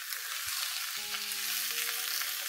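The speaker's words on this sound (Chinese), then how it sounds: "跟住我哋慢慢炒洋葱啦" Onions stir-frying in a pan over high heat for onion soup, a steady bright sizzle with soft stirring scrapes and a faint low tonal hum underneath, no voices.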